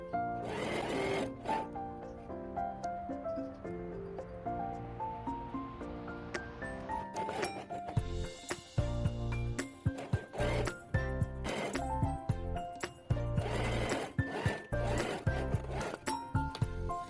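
A sewing machine runs in steady bursts, stitching a folded double hem along the edge of curtain fabric, its motor whirring loud and close with brief pauses and restarts, no voices.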